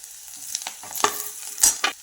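Coriander, red chili powder, coriander powder and washed moth beans sautéing in oil for a village-style masala matki, heard as intermittent stirring scrapes with brief sizzling bursts, fairly close and with no talk.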